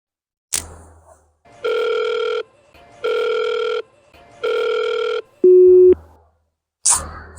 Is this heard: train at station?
no